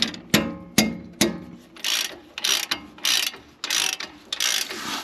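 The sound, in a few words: extendable ratchet breaking lug nuts free on Ford F250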